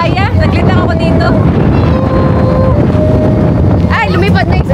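Strong wind buffets the open deck of a moving ferry, a loud steady roar with boat engine rumble beneath, while people talk and call out near the microphone.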